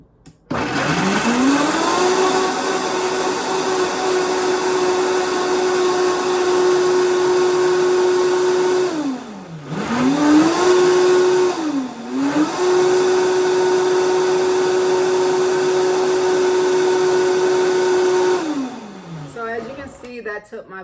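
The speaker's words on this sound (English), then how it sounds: "So then I'm going to blend this." A loud blender blending nori and dry ingredients whirs up close, spinning up and holding a steady high whine, briefly slowing and restarting twice before winding down.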